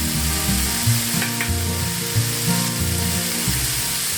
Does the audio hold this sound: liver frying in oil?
yes